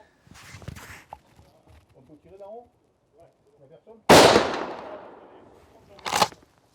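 A Beretta BRX1 straight-pull rifle in .308 fires one loud, sharp shot with a long ringing decay outdoors. Soft handling noises and quiet talk come before it, and a shorter bang or thump follows about two seconds later.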